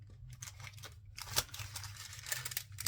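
Scissors snip through a paper image cut out for a file folder folio journal, giving close, quiet crisp cuts in short irregular runs, with paper rustling in between.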